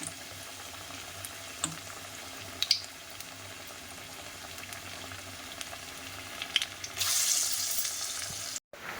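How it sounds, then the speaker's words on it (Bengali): Shrimp fry in a pan over a low flame, covered, for a taro curry. A soft, steady sizzle holds throughout, with a brighter burst of hiss near the end. "এই তো চিংড়িগুলোকে ভেজে নিয়েছি"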